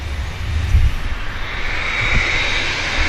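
A Boeing 787 Dreamliner climbing out of Manchester Airport bound for the Dominican Republic, its engines producing a steady, distant jet roar and low rumble with slight swells.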